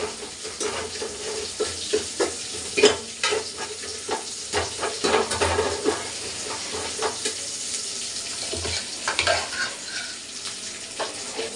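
Mustard seeds crackling and spluttering in hot oil with dried red chillies, a dense close sizzle dotted with sharp irregular pops and light stirring clicks throughout.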